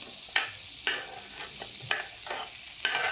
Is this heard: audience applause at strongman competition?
no